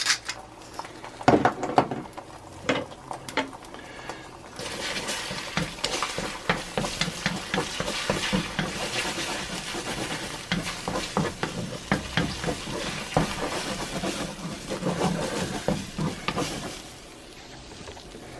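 Scrambled eggs cook in a hot wok with a little oil while fried rice is being made, giving a steady sizzle broken by repeated scraping and clattering stirs of the utensil against the metal, fairly quiet and continuous.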